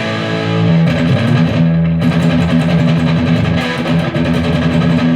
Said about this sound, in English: So if I go distortion all the way, it's going to sound like this.